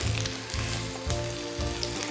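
A seafood scallion pancake (haemul pajeon) fries in oil in a pan, a loud dense crackling sizzle with rhythmic surges as the pan is shaken to spread the oil.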